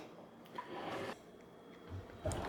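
A drawer of an apprentice tool cabinet slides open with a short rolling rub and a soft knock near the end, close and quiet.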